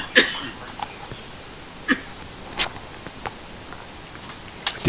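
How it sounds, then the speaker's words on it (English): Coughing from a person, several short sharp bursts spaced irregularly across a few seconds, moderately loud and close, with no talk over them. "I'm sitting here hacking and coughing."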